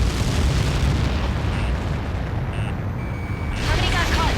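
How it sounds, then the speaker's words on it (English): A massive weapon blast rumbles through an Ace Combat 7 flight game, set amid fighter-jet combat: a heavy, sustained low roar that swells again near the end, with faint radio-style tones over it. "How many got caught in that explosion?"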